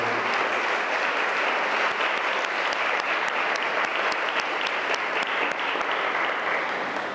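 A church congregation gives sustained, dense applause for people being consecrated, a full crowd clapping steadily from start to finish with no talking over it.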